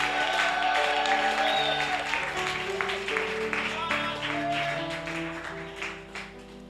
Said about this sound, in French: Tiens-toi debout, acclame le Seigneur pour l'homme de Dieu, ton papa